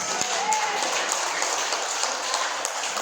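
Steady, dense clapping from an audience at an Indonesian health seminar, a continuous moderate wash of hands with some voices mixed in, holding at an even level throughout.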